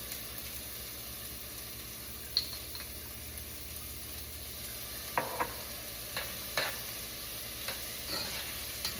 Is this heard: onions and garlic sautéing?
yes